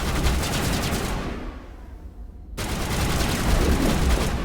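Gunfire in Mass Effect Legendary Edition, a loud sustained rattle of automatic shots that dips briefly into a lull, then resumes at full intensity.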